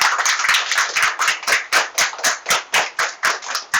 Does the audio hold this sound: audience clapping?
yes